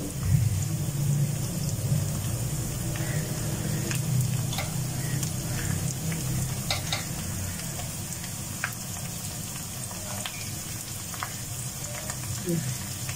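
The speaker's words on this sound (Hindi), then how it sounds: "और दम वाली आग से 1 दर्जा ज्यादा आंच पर हम इसे पकाएंगे।" Stuffed tinda (round gourd) cooks in a pan over raised heat, with a steady, moderate sizzle and crackle that holds throughout, and occasional soft ticks.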